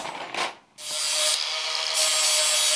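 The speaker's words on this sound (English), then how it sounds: "Grind the edges on one side for a better contact surface for the soldering." Crinoline hoop steel has its edges ground on one side for soldering, heard as a harsh, loud abrasive rasp close by that starts after a brief grind and pause, then continues steadily with slight shifts in pitch.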